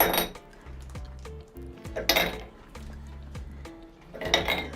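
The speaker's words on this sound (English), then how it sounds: "And we need some ice in the glass." Ice cubes clink and knock into a glass with several separate hard chinks and rattles, close and fairly loud, with a short pause between clusters as more cubes drop in.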